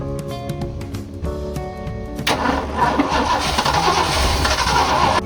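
A Ford F250 Super Duty engine cranks with a rapid rhythmic starter whir for about two seconds, then catches and settles into a loud, rough, close idle.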